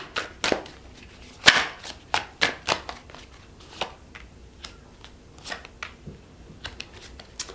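Tarot cards are shuffled and flicked in a series of sharp, close papery snaps with irregular pauses between them, the crispest burst coming early and later ones softer.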